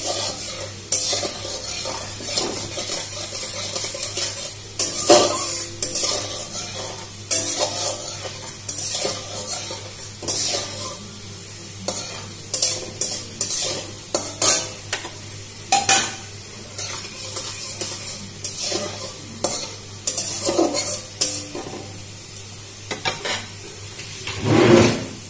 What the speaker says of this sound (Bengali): ব্রাউন করে ভেজে নেব।